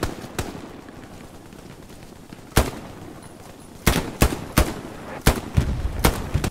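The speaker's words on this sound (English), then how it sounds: "I'm shooting at them right now" Gunfire in the WWII shooter Hell Let Loose: scattered single shots crack out early, then come in a quicker irregular string of loud reports over a steady rumbling battlefield background.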